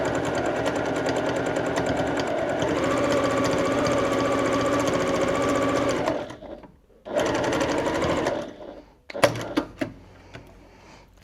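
A bernette 08 straight stitch sewing machine stitches through four layers of 10-ounce denim with a fast, even mechanical whir that stops, resumes briefly, then gives way to a few clicks and handling noises.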